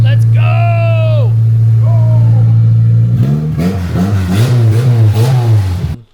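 Toyota MR2 with a swapped Honda K24 engine running loud and close, holding a steady idle before a series of sharp revs rise and fall in quick succession, with voices over it.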